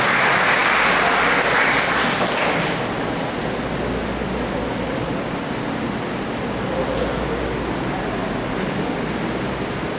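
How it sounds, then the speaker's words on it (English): A large audience gives a sustained, dense round of applause at the installation of a new school superintendent, loudest at the start and settling into an even wash of clapping that carries on without a break. "let's give our ASFES Superintendent a big warm round of applause"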